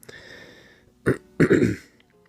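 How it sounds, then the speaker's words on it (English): Someone clears their throat twice in a row, a short rough burst followed by a longer gravelly one, close and loud. "I keep clearing my throat because I do suffer from really bad allergies"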